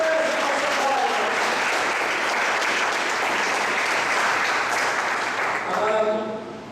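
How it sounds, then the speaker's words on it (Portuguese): A church congregation applauds in steady, sustained clapping that fills the room and swells slightly before tapering off, with a voice speaking over it. "Você pode aplaudir."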